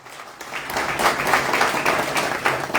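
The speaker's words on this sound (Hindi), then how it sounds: "मैं चाहता हूं आप सभी एक बार अपने लिए जोरदार तालियां लगा लीजिए" Audience applause at an evening company event for a car loan firm, starting softly and swelling quickly into full, steady clapping from the gathered crowd.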